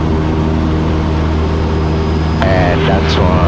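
A Piper Super Cub light aircraft's engine drones steadily during a soft field takeoff, loud and continuous, with a brief voice over it near the end.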